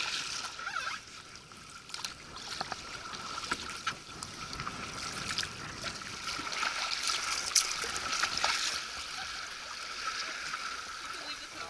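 Paddles dip and pull through the water beside a boat on an Antarctic voyage, stroking on the right side only, giving a steady wash of trickling, splashing water under faint wind and distant talk.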